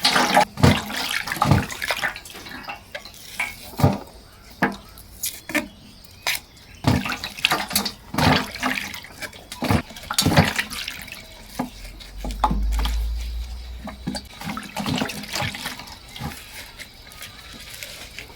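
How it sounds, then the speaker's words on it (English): Fresh coriander is rinsed under a running kitchen tap, water splashing and gushing in irregular bursts, close and moderately loud, with quieter drips between the pulses. "I'll wash and rinse my coriander."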